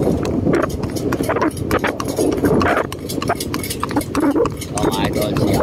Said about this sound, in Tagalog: Napakaraming kabayo ngayon